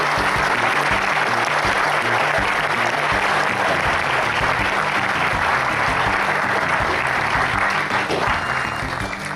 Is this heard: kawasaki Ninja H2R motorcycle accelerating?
no